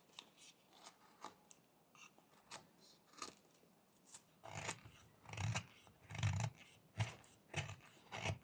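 Knife whittling into a small carved wooden wizard figure, with cuts made against the feet: quiet, close scraping and shaving strokes, sparse at first, then heavier rhythmic cuts with soft thumps in the second half.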